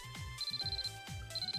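A phone ringing in the visual novel game Hime-sama Love Life!, an electronic ringtone of repeated short chirping pulses in two bursts, each with a high sustained tone, heard clearly and alone.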